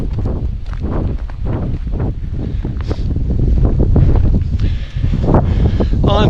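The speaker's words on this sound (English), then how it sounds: "the weather's turned even more. It's really quite blustery." Blustery wind on the Dorset coast, loud gusts buffeting the microphone in heavy, continuous rumbling bursts that swell and ease without stopping.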